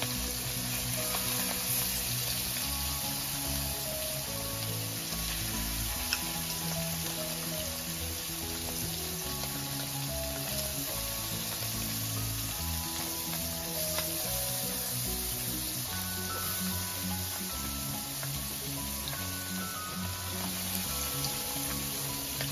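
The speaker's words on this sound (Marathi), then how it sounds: "आणि फायनली फ्राय साठी पण सोडलंय वाक्यो." Dried wakti fish fries in hot oil, giving a steady, even sizzle that holds at moderate volume and stays unbroken and close for the whole stretch, with no speech over it.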